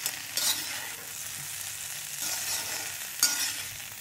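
Cauliflower florets fry over a medium flame in a pan, with a soft, steady sizzle and occasional scraping stirs, fairly quiet and close.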